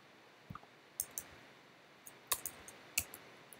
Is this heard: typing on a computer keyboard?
yes